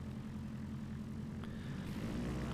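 Woody's Pusher, a lightweight light airplane of about 1,000 pounds with a pusher-mounted engine, at a STOL competition: a steady, loud propeller engine drone holds throughout, with no voices over it.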